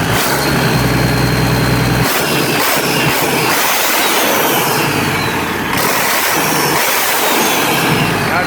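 Rebuilt Mack E7 diesel truck engine running close by in a workshop, a loud continuous rumbling roar with a heavy low idle at first, then a steady churning drone with the clutch spinning.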